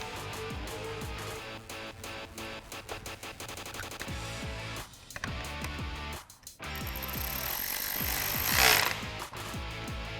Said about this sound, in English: And then we can reinstall one of our T30 Torx screws.